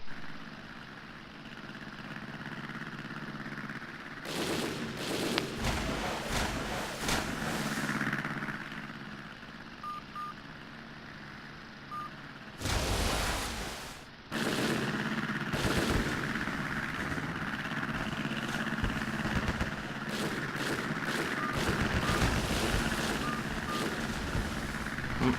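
Armour-piercing naval gunfire from the battleship Iowa in a warship video game: heavy bursts of rumbling shots arrive in a cluster early on, then a louder, tighter salvo follows, over a steady engine-like drone.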